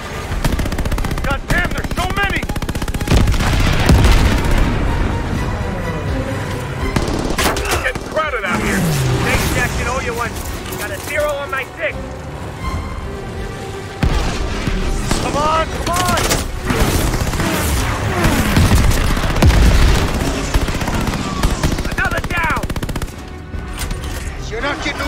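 Machine guns rattle in the Call of Duty Vanguard Midway plane mission, with loud, nearly continuous bursts and booms layered over engine drone while voices shout over the gunfire.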